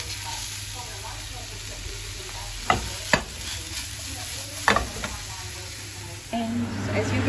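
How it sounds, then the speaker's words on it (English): Button mushrooms sizzle in a non-stick pan while being stirred, a steady frying hiss punctuated by several sharp scrapes and knocks of the spatula, close up, with a faint voice in the background. "I'll keep on stirring them so this won't burn."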